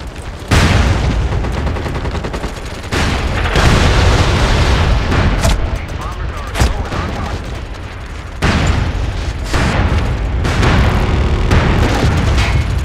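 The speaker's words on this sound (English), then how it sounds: "Incoming artillery." Incoming artillery fire in the video game MAG, loud repeated booms and blasts with overlapping gunfire, in bursts separated by brief drops, dense and close throughout.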